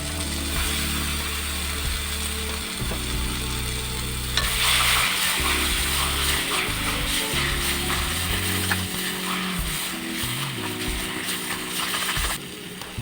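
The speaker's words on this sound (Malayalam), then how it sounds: "ചെമ്മീന് നമുക്ക് ഇതിനകത്തോട്ട് ഇടാം" A kilo of prawns tipped into a pan of hot oil for a coconut curry, setting off a loud, steady sizzle with scraping and stirring clatter running throughout, no voices.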